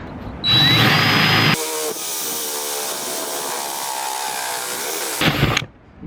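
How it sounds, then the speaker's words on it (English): A power drill fitted with a circular hole bit cuts through metal, first revving in a short loud burst, then grinding steadily for several seconds before a final rising whine and stopping, close and loud. "So let's go ahead and get our drill bit."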